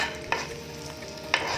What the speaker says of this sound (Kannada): ನೋಡಿ ಚಿಲ್ಲಿ ಫ್ರೈ ಆಗ್ತಾ ಇದೆ.